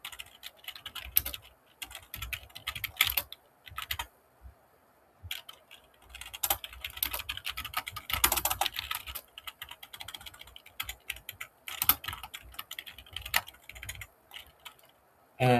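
Rapid, uneven keystrokes on a computer keyboard as C code is typed, coming in bursts with brief pauses, close and fairly quiet, with no talking.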